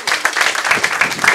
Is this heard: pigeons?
no